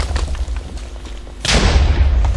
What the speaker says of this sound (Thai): ระเบิดระเบิดระเบิด